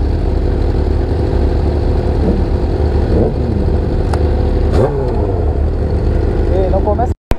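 Loud, continuous motorcycle engine noise at close range, including an MV Agusta, idling and blipping with brief rising revs, ending in a sudden cutoff; voices talk faintly underneath.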